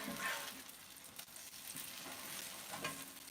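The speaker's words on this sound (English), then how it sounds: "Sizzling away here" French toast frying in butter in a pan, a steady close-up crackling sizzle with light spatters, alone without any talk.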